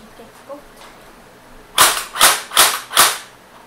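Four sharp snapping shots from a G36C airsoft rifle fire in quick, even succession, following a few faint clicks and handling noises.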